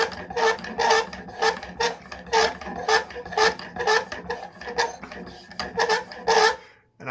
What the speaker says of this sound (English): I have the squeakiest honing guide on the planet.